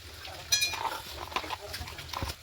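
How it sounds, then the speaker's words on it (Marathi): Chili powder and salt being stirred into hot oil in a pan: light scraping and clinking of a utensil against the pan, fairly quiet, with a voice talking over it. "पण त्याला थोडं हलवून देऊ जेणेकरून ठसा लागणार नाही"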